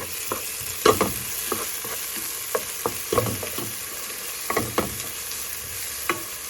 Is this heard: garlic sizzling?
yes